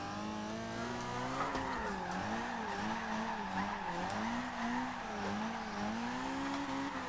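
Mazda MX5 Miata in Forza Horizon 2 with its tyres squealing and sliding in a sustained, wavering screech over a steady engine drone, loud and continuous throughout.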